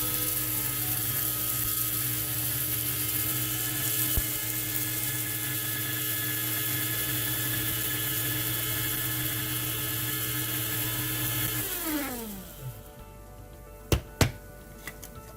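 A small electric spice grinder whirs steadily at high speed, grinding spices to a fine powder. Its pitch drops as the motor stops near the end, followed by a couple of sharp clicks and taps.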